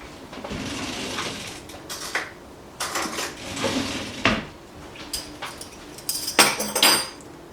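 A spoon is fished out among pots, pans and cutlery in a kitchen, with clattering metal clinks, scrapes and a drawer-like slide, loud and close in irregular bursts, brightest near the end.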